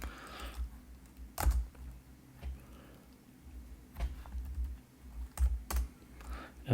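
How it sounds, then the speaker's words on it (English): Quiet clicks of typing on a computer keyboard come in short irregular bursts, with pauses between runs of keystrokes and a soft background hum. "Typing is something that you all should learn better than me."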